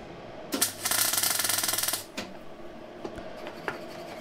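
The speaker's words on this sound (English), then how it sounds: "what I'll do is I'll centralise them and weld them in place" A welder tacks washers in place on a Bateson trailer, a loud crackling buzz for about a second and a half, then a few isolated clanks and taps.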